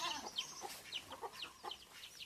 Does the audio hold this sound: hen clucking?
yes